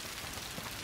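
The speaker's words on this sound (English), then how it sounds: "It's raining." Rain falling in A Plague Tale: Requiem, a dense, even hiss of drops pattering on surfaces, soft and continuous across a very short stretch.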